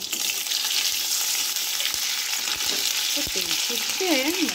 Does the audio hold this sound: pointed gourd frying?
yes